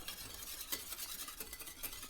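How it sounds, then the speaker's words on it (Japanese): A whisk scrapes rapidly and continuously in a figure-eight through Choron sauce in a metal pan, a soft, steady swishing with light rhythmic clinks, close and quiet. "泡立て器を8の字に動かして泡立てていきます。"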